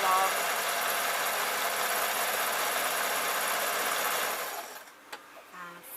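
Sewing machine stitching a folded fabric hem on a painting smock, a loud continuous motor whir that runs steadily then stops, followed by faint handling sounds.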